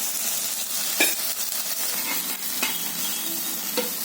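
Jowar flour dosa fries in oil on a pan, a steady close sizzle with soft crackles and a few faint scraping touches, no voices.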